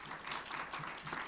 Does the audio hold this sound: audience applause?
yes